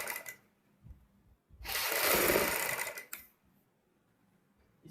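Burst of a sewing machine running for about a second and a half while stitching along a strip of fabric for a suit or kurti sleeve design, close and fairly loud, with quiet handling sounds before and after.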